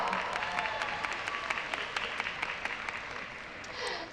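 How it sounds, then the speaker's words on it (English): A crowd at a Diversity Day keynote address applauding steadily, a dense wash of many hands clapping at once that carries on without pause and swells slightly near the end. "Let's give him a big round of applause."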